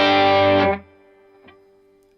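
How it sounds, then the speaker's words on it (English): Distorted electric guitar through a Milkman Half Pint amp, a single thick crunchy chord ringing out loud, then cut off sharply to a faint lingering hum with one soft tap near the end. "As expected, we get more distortion from this than we did from the Strat."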